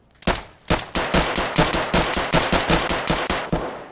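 Rapid automatic gunfire from the Escape From Tarkov video game, a loud close burst of about a dozen evenly spaced shots over a few seconds, heard alone with no talking.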